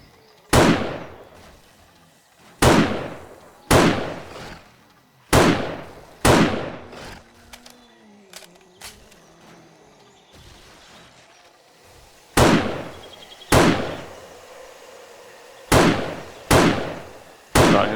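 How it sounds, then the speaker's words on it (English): Loud gunshots and bursting zombie heads in the video game 7 Days to Die, Alpha 15: sharp, close booming blasts arrive in irregular clusters of two or three, with quieter rumbling game noise between them and no talk. "I love it when you get that headshot and their head explodes"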